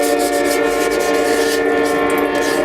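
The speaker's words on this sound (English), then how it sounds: "Good old wet sand." A motorcycle fairing is wet sanded by hand before painting, giving a continuous close, loud rubbing hiss with a steady, droning tonal hum throughout.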